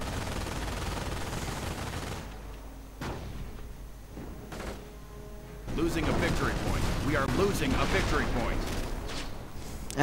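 Video game MG42 machine gun fire in a battle: rattling bursts of automatic gunfire roll in the middle distance, with thuds and other combat noise, beneath a commentator's talk.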